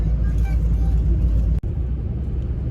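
Steady low rumble of a bus driving through the Peruvian desert in the southern half of the country, engine and road noise filling the cabin, with a brief dropout partway through.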